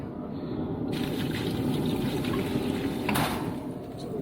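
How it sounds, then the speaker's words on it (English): Water is poured into the water tray of a Pit Boss vertical smoker cooking baby back ribs. A steady, close trickle and splash runs throughout the few seconds, with a brief clatter near the end. "Go ahead and add a little more water to the"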